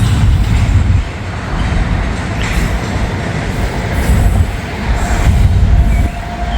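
A CSX freight train rolls past on the tracks, a loud, steady rumble of wheels with faint squealing and rhythmic clacking, close by throughout.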